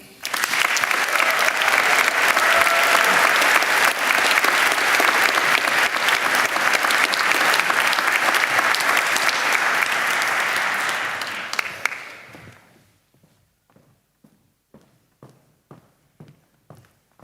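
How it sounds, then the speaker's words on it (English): Audience applause at a graduation ceremony fills the hall, loud and steady for about twelve seconds before fading to scattered, isolated claps. "A big round of applause, please."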